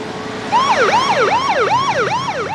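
An ambulance siren wails in a loud, rising and falling sweep that repeats steadily, starting abruptly and carrying clearly with no voices over it.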